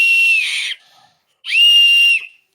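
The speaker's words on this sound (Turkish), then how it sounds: "Düdüğü şeydi dostlar" A toy whistle gives two loud, steady shrill blasts, each close to a second long, with a short silent gap between them.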